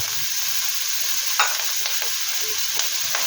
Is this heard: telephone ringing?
no